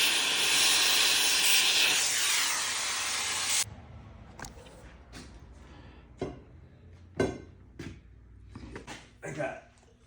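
An oxy-acetylene torch roars loudly and steadily for several seconds while heating a sheared lug nut and wheel stud, then cuts off, leaving quieter shop noise with someone talking.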